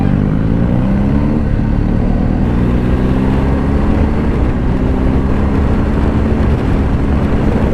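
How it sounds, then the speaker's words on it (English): A BMW R 1250 GSA motorcycle accelerates hard in road mode, its engine note loud and close as the revs rise and the pitch climbs steadily across the gears, with continuous wind and road rumble behind it. "That's where the fun of this bike is, you know, when you kind of accelerate."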